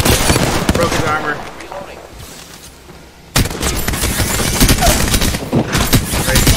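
Rapid bursts of automatic gunfire rattle through a shooter game, dense and loud, pausing briefly before resuming even harder, with a player's voice talking over the fight.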